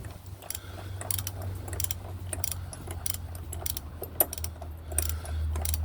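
A half-inch ratchet with a 36mm socket works a nut with a large washer behind it, giving irregular close metallic clicks over a low background hum.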